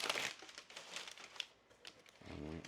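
Paper being handled while unboxing a replica dealership badge, soft crinkling and rustling in quick irregular bursts, close and fairly quiet.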